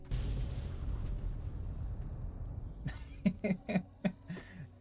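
A grenade explosion in the Fallout New Vegas video game, a low rumbling boom followed by a run of four or five sharp bursts in quick succession.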